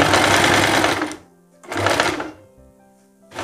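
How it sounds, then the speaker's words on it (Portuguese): A sewing machine runs close and loud, stitching a fine hem seam in two sustained bursts of rapid whirring with a brief pause between them. "agora eu vou passar uma costura bem fininha"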